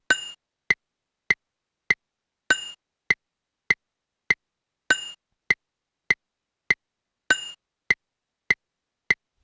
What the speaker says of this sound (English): And the 4/4 time signature would sound like this.